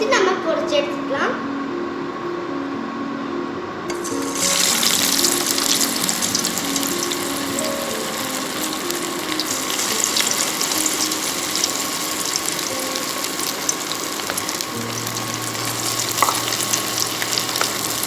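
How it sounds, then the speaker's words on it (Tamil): Masala-coated mushrooms sizzle and crackle steadily as they deep fry in hot oil in a pan, a loud, dense, continuous frying hiss that swells once the pieces go in, with a person talking over it. "இதை நம்ம எண்ணெயில் போட்டு பொரிச்சு எடுத்துக்கலாம்."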